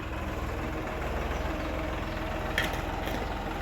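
A tractor engine idling and running inside a cattle shed, a low steady rumble close by with a brief clank near the end, no talking.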